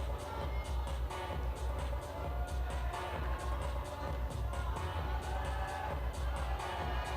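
Crowd noise swelling into a broad, sustained cheer from spectators at a lead climbing World Cup final in Puurs, 2012, steady and moderately distant, with a commentator's voice faintly over it.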